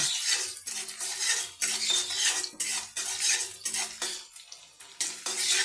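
Onions stir-fry in hot oil in a wok, with repeated scraping and clinking of a metal spatula against the pan in a steady back-and-forth rhythm over a soft sizzle, close and clear, with no speech.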